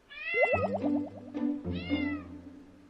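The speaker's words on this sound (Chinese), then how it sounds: "真的是喵星人哎，它太可爱了。" A pet cat meows twice, close and clear, with a long drawn-out call followed by a shorter second one, and no talk over it.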